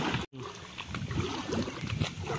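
A small boat moves across a pond, a continuous soft wash and lapping of water against the hull, close and fairly quiet with no voices.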